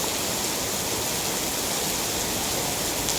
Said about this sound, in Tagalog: Grabe na ulan.